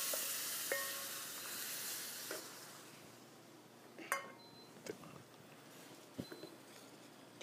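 Lobster and basil in a hot pan, risotto cooking: a steady, close, bright sizzling hiss that eases slightly, with a few soft clinks of a utensil against the pan and no voices.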